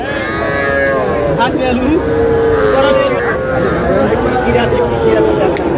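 Young bull calves low and moo repeatedly at a busy cattle market, several overlapping calls close by over steady crowd murmur and chatter.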